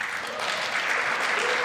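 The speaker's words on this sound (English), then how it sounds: "That wasn't even a moment for applause." Audience applause fills a speech hall during a State of the Union address, steady and dense for the whole moment with no pauses.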